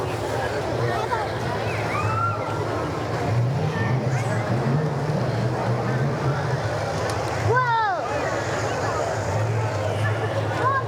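Antique tractor rolling past at a small-town strawberry festival parade, a steady low engine drone sitting in the foreground across the whole stretch, with continuous outdoor crowd and wind noise around it.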